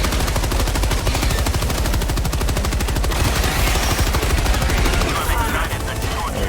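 Loud, continuous rapid gunfire from a weapon in Helldivers 2, a dense machine-gun-like stream of shots lasting throughout with battle noise around it and a voice speaking over it.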